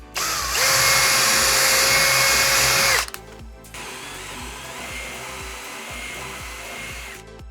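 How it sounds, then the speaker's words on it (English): A power drill bores a 25mm hole through an interior door, a loud steady whine for about three seconds that stops abruptly, then a quieter lower grinding hum follows. "then I'm going to drill a 25mm hole"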